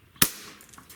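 A single sharp crack from an Umarex Gauntlet PCP air rifle in .22 or .25 caliber, close and quick, with a short fading tail.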